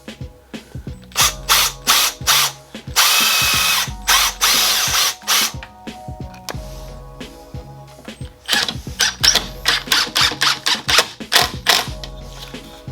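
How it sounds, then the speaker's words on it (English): Power drill driving screws to secure wheel storage racks in a cluttered garage, with repeated short whirring bursts in quick rhythm, a longer sustained run in the middle, then a rapid series of brief pulses, close and loud. "This new drill's a little fast."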